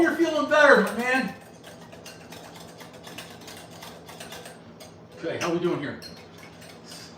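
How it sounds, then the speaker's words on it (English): Batter being whisked in a bowl for a breakfast pizza, a soft steady scraping and clicking running quietly through the middle of the clip, with a person talking briefly at the start and again near the end. "I'm whisking"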